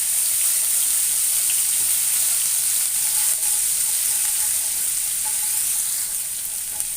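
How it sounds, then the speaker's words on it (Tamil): Ginger, garlic, cinnamon and cloves sautéing in hot oil for tomato kurma, a steady bright sizzle close up that runs without pause, fading slightly near the end, with no talking. "போட்டு இதை நல்லா வதக்கிக்கலாம்."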